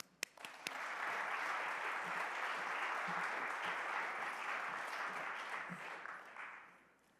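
An audience applauds to welcome a speaker at a talk: a few scattered claps open, then steady, dense clapping builds and holds before slowly tapering off near the end.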